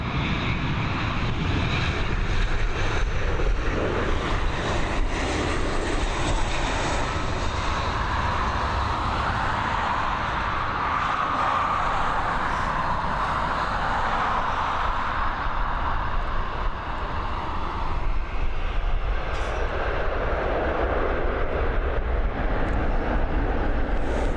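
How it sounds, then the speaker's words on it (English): Transavia airliner landing at Dublin Airport, its broad jet engine roar steady and fairly loud throughout, swelling in the middle as it passes. "Here we go, we've got this Transavia coming in."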